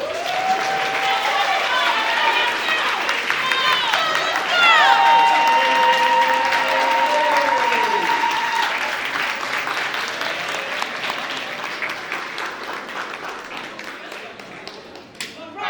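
Group clapping for Mariah on the back, a loud steady wash of claps with shouting voices and tonal calls over it, fading slightly toward the end.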